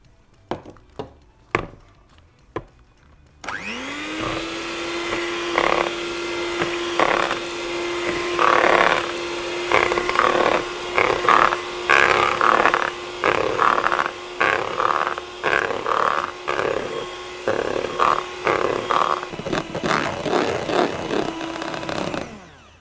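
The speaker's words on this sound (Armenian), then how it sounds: "Վերցնում ենք քրեման, ավելացնում ենք ու պետք է հարենք" An electric mixer whirs steadily as it beats cream in a bowl, a continuous motor hum with rhythmic scraping pulses as the beaters work, preceded by a few sharp knocks before the motor starts.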